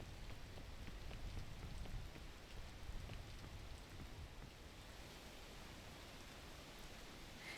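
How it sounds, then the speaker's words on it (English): Steady rain in the climbing video game PEAK, a dense, even hiss of falling drops that continues without a break, moderately loud and alone. "Ah, rain!"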